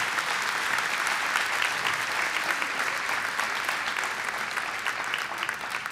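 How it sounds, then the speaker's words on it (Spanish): Sustained applause from a large crowd in a church auditorium, steady and dense throughout, with many hands clapping at once and no voices standing out. "Un aplauso para los del 2025"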